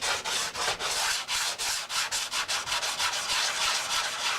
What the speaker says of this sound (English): I like to do the final sanding dry.